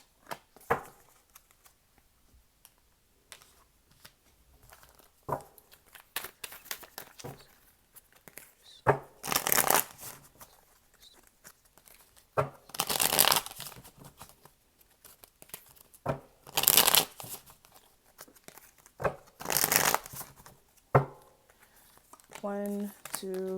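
Tarot cards are shuffled and handled in soft, papery bursts of riffling and crinkling, repeated several times with gaps between, while a voice talks over parts of it.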